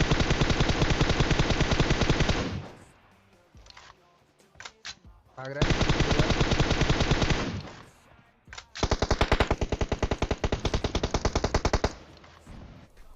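Long bursts of rapid automatic gunfire in PUBG Mobile, loud and continuous, broken by short pauses and a brief spoken remark.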